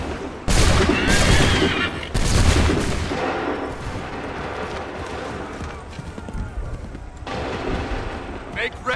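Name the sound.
musket gunfire volley from Assassin's Creed III video game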